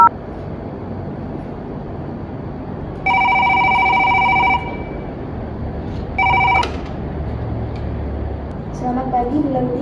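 An office desk telephone rings in two bursts, a long ring followed by a shorter one, loud and close over steady background hiss in an Indonesian office setting.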